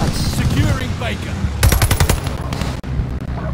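Rapid automatic gunfire bursts loudly in a Call of Duty Vanguard multiplayer match, a dense volley of shots mixed with battle noise and brief voice chatter.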